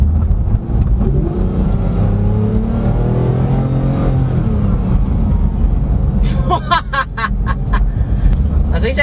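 A 2016 Porsche 911 GT3 RS (991.1) engine drones loudly and steadily from inside the cabin, with quick PDK gear changes altering the pitch, while a person talks over it near the end.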